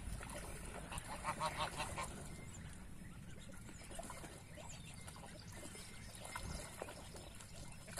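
Geese by a pond with goslings, a few nasal honks near the start over a background of trickling water and rustling, moderately close, no talking.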